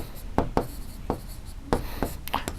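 Numbers are written on a board in a short run of distinct tapping and scratching strokes, close and fairly quiet, irregularly spaced, with no clear talk over them.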